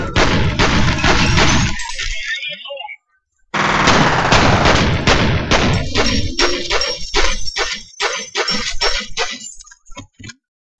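Rapid automatic gunfire in a firefight in the video game F.E.A.R., loud dense bursts with glassy clinks and breaking, a brief pause near the third second, then more volleys and single shots trailing off.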